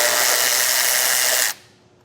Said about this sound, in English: I have a 15mm socket. Just going to remove this bolt on either side